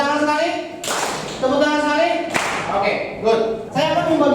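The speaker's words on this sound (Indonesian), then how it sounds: "Tepuk tangan sekali." A class of students claps together on a teacher's cue during a classroom lesson. Several sharp, single unison claps ring out, spaced a second or so apart, while the teacher's voice continues between and over them.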